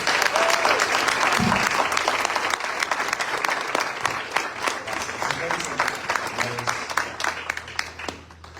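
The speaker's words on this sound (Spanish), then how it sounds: "yo quiero que usted se ponga de pie en esta hora, aleluya, y le dé un fuerte aplauso al pastor Tommy Moya." A standing church congregation at an anniversary service gives a loud, sustained round of applause for the pastor, dense clapping throughout with some crowd voices mixed in.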